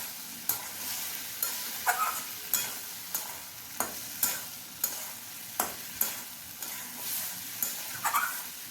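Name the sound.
fried potatoes and green plantain stirred in masala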